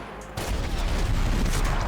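Rapid gunfire in the Max Payne 3 video game, a loud sustained burst of overlapping shots that starts abruptly after a brief quieter moment.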